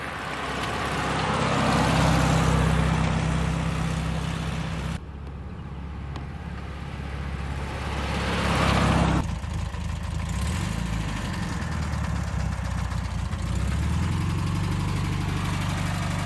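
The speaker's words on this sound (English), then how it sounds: "we're going to do a couple of drive-by shots so you can hear the engine running and see the car in motion" A 1967 Volkswagen convertible's engine runs through a drive-by, a steady mid-low hum that swells as the car approaches, drops off, then builds again and settles into a continuous drone.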